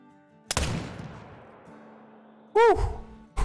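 A single sharp gunshot rings out in the hunting game Call of the Wild, aimed at a feral hog. A quiet tail follows, and then a second loud, ringing report near the end.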